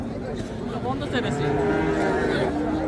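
Young calves at Hazratpur cattle market low and moo in drawn-out calls over a busy crowd, with people talking nearby throughout.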